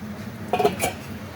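A lid set down over a pan of young green jackfruit cooking with coconut, giving a brief pair of metallic clinks against a faint background.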